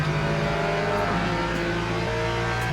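A hypercar in the racing sim Le Mans Ultimate during the 6 Hours of Imola, its engine a loud sustained high-pitched whine that holds steady as it passes close by, with no voices.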